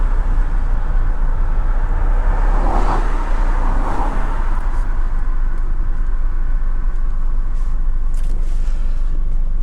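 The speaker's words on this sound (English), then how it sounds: "Oh no, more traffic." Steady road traffic rumbles close by while driving through Walsall, UK, with loud low engine and tyre noise droning evenly and a car passing about a third of the way through.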